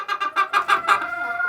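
Several hens cluck in a quick, rhythmic run of short calls, close and clear, in a chicken coop being readied for winter.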